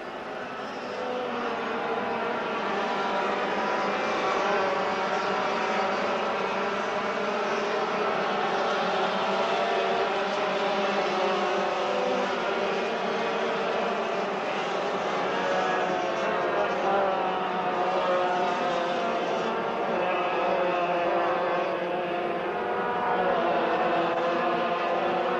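Racing karts with Yamaha KT100S piston port engines in a 1987 race, a sustained high-pitched two-stroke whine with shifting pitches from several karts, loud and continuous throughout.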